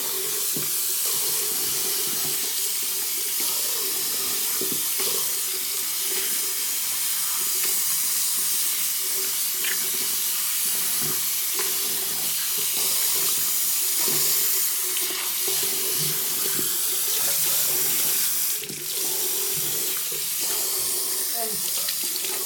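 Tap water runs steadily into a bathroom sink during cleaning, a continuous close hiss and splash with small clinks from handling throughout.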